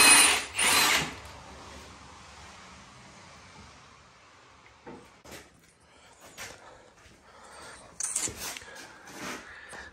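Power tool tightening engine mount bolts during a K24 engine swap into a Honda Civic EM2, with a loud close burst of whirring at the start and short intermittent tool bursts and clicks later on.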